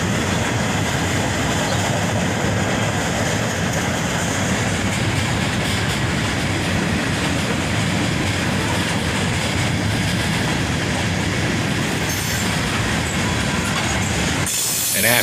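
Freight cars of a short train hauled by three locomotives roll steadily by near Dayton, a loud unbroken rumble with wheel squeal and clickety-clack for about fifteen seconds, ending abruptly.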